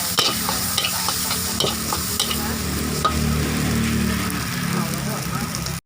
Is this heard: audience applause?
no